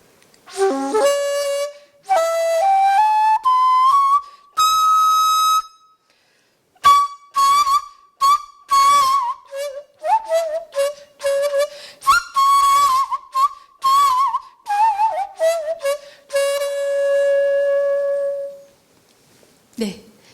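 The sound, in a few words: sanjo daegeum, Korean bamboo flute, playing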